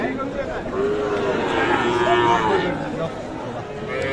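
Sahiwal calves low and moo a few times in a drawn-out, wavering call, with people chattering in the background throughout, at a cattle market.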